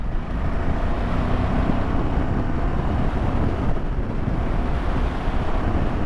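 Royal Enfield Himalayan 450 motorcycle rolling on the throttle in top gear at about 30 mph, a steady low engine rumble buried under heavy, continuous wind buffeting on the microphone.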